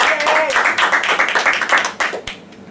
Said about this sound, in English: a big round of applause for the INT for building such a great leader